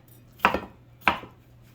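Knife roughly chopping vegetables such as bell pepper on a cutting board for tropical grilled shrimp skewers, two sharp distinct knife strikes spaced about half a second apart, close and clear with no talk.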